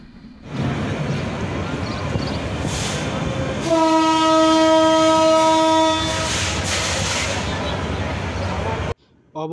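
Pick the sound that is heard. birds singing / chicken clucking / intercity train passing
intercity train passing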